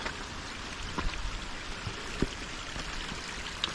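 A small mountain stream runs beside a hiking trail on the Appalachian Trail, giving a faint, steady wash of flowing water with a few soft splashes and drips and no voices.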